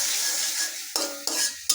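Greens with turmeric are stirred and sautéed in a pan with steady sizzling and frying, broken by three sharp scraping stir strokes of the utensil against the pan.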